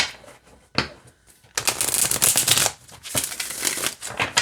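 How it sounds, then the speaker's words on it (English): A tarot card deck is shuffled by hand in close, crisp riffling bursts: a short flutter, then a long rapid rush of cards and another shorter burst. "And we're going to shuffle it the other way here."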